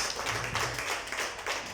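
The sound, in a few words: church congregation applause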